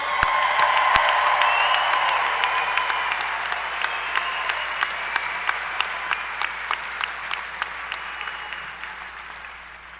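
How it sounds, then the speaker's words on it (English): A large crowd applauding the class of 2021 at a Timberland High School graduation: sustained, dense applause that slowly thins, with a few sharp nearby claps standing out toward the end. "let's give it up for the class of 2021"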